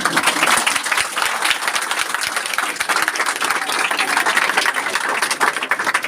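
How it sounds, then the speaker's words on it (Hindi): A standing audience gives loud, enthusiastic applause welcoming a respected teacher: rapid, dense clapping from many hands, close and sustained for about six seconds without talk. "आप सब एक बार खड़े होके मेरे आदरणीय अमरेश सर के लिए जोरदार ताली से स्वागत"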